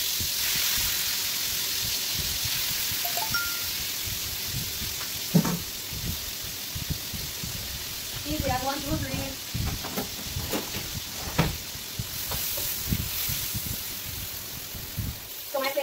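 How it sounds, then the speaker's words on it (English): Chicken sizzling and frying in a wok on a stove set around medium, a steady crackling hiss running throughout, with occasional stirring clatter and a person talking over it. "So you will see when I'm frying up this in my wok,"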